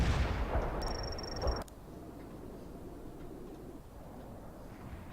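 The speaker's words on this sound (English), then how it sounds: "Light artillery barrage fired at coordinates." Artillery barrage in the game World in Conflict, a heavy rumbling roar of explosions that cuts off abruptly, leaving a low sustained battlefield rumble and a faint high electronic tone.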